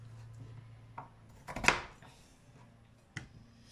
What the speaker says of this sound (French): Je coupe en petits morceaux.